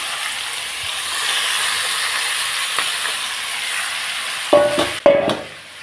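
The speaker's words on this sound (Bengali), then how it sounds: "দিয়ে দিচ্ছি কড়াইতে সরষের তেল। দিয়ে দিলাম সাদা জিরা ফোড়ন। এখন আমি মাছগুলো ছেড়ে দিচ্ছি।" Fish sizzles in hot mustard oil tempered with white cumin seeds, a close, constant hiss of frying with a couple of sharp clatters of the pan or utensil near the end.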